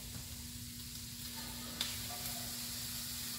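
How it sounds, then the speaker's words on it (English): Raw bacon cut into half-inch strips and half a sweet onion sauté in a large skillet, giving a steady, fairly quiet sizzle throughout with a faint low hum and one brief tap partway through. "And you're going to saute this until the onions are a little bit translucent and the bacon is just a little bit crispy around the outside edges."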